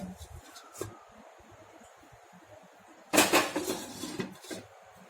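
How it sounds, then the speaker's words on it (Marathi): A metal cooking pot topped with a sieve holding shengole, a dumpling dish, is set down on a gas stove, giving a sharp clattering knock of metal on metal and a few smaller clanks over quiet background noise. "हे पातेलं आणि त्याच्यावरती ही चाळण ठेवून हे असंच गॅसवरती ठेवूया"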